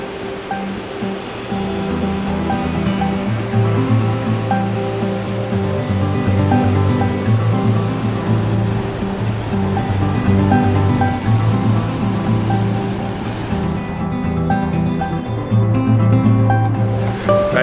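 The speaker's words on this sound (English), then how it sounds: "we're confronted by this giant waterfall" A giant waterfall on a trekking route in Nepal roars as a constant, dense wash of falling water, steady and loud throughout with no voices.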